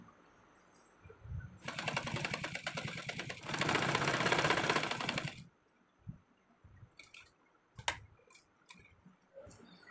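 A sewing machine runs two close stretches of fast, even stitching along the edge of a cloth piece for a half-collar V-neck co-ord set. A few faint clicks and handling taps follow in a quiet room.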